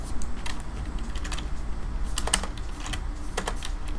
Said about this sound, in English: you press the right fucking keys on your keyboard